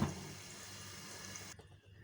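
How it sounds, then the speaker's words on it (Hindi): Water poured into a pan of simmering potato and pea curry (matar aloo salan), a steady splashing pour lasting about a second and a half before cutting off abruptly. "हल्का सा पानी डालेंगे।"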